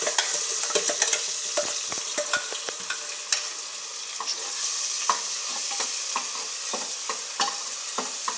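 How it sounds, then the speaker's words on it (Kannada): Ground vegetable masala fries in oil in a pan for sagu, a bright continuous sizzle broken by frequent scraping and clinking stirs, close and fairly loud. "ಫಸ್ಟು ತರಕಾರಿ ರುಬ್ಬಿರೋ ಖಾರನ ಎಣ್ಣೆ ಚೆನ್ನಾಗಿ ಫ್ರೈ ಮಾಡ್ತೀನಿ."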